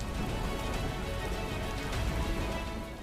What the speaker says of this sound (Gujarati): અષાઢી બીજે ધીમી ધારે વરસાદ જોવા મળ્યો